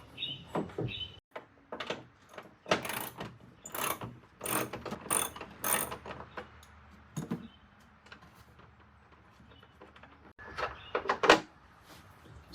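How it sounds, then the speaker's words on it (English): A ratchet backs off a hood nut on a RAM 1500, bursts of close, fairly quiet clicking pawl strokes in irregular runs separated by brief pauses. "and then I'm gonna take the other nut off."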